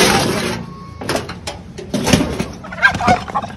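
Pet turkey gobbling in rapid, loud bursts close by, with scuffling and handling noises between the calls and no speech.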